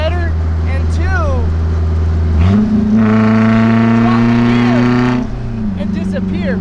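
A Nissan 720 minitruck with a swapped KA24DE engine idles steadily up close, then revs up sharply for a couple of seconds before dropping back to a smooth idle.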